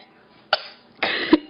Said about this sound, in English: Can you cough?